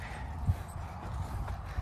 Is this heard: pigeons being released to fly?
no